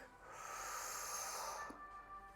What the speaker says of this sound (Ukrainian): І видих носом.